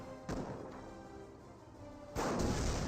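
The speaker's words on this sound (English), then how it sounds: "The mortar half track may have fired a mortar right there." Two heavy, booming blasts from a mortar half-track firing in the World War II strategy game Company of Heroes, one early and one near the end, each with a rumbling tail over steady battlefield background noise.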